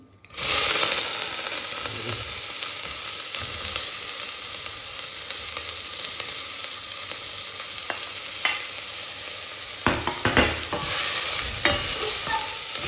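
Peperoncino and onion hit a smoking-hot pan with a sudden loud sizzle that holds steady, broken by clinks and scrapes of stirring near the end; the frying is for egg fried rice cooked without a wok.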